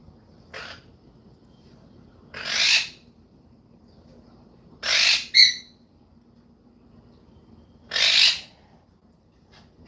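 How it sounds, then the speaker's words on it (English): Several pet birds squawk indoors in harsh, separate bursts, four loud calls spread across the stretch with quiet room tone between them. "Sorry about the birds"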